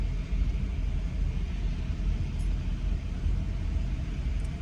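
A car rumbles on a Boca Raton street in Florida, heard as a steady low road roar and engine drone from inside a moving vehicle, moderately loud and continuous with no distinct pass-by peak.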